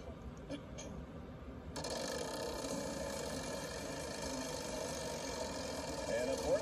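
The Wheel of Fortune wheel spinning on the game show, a faint, steady run of quick pointer clicks under studio crowd noise and talk.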